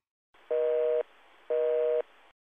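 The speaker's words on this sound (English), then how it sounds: "Choose calls, dial a number," Outgoing call tone in Microsoft Teams after dialing a number: two steady, clean electronic beeps of about half a second each, evenly spaced over a faint hum, with no voices.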